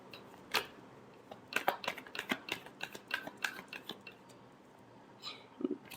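Tarot cards being shuffled, a quiet run of crisp clicking and flicking taps in uneven clusters over several seconds, with a brief pause before a last few snaps and no talk.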